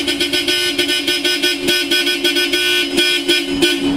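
Bosch Europa car horns fitted to a Toyota Vios blare loud and close in a continuous steady tone, with rapid pulsing and several short breaks.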